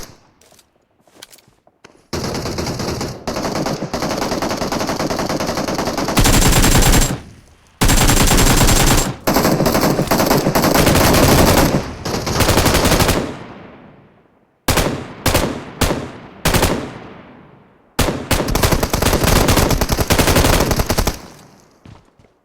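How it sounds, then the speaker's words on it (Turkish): Loud automatic gunfire from the PUBG Mobile video game comes in long sustained bursts and short rattling volleys, separated by brief silent gaps, with occasional footsteps. "Ne sıkıyorsun lan bana?"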